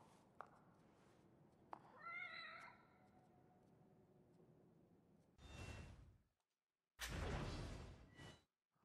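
Cat in The Evil Within: The Assignment gives one clear wavering meow at close range over quiet ambience, followed by two loud bursts of noise.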